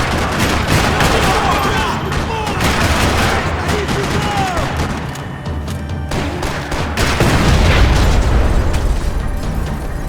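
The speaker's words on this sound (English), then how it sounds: "Another parking lot rattling with gunfire." Sustained gunfire rattles through a parking lot shootout in the video game Max Payne 3, rapid bursts and booming shots crowding together continuously, loud and close.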